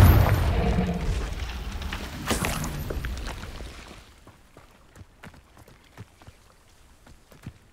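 A Confringo spell explodes in the video game Hogwarts Legacy: a loud, booming burst opens the sound, then a rumbling roar decays over about four seconds. Scattered crackles and small debris-like impacts trail off after it.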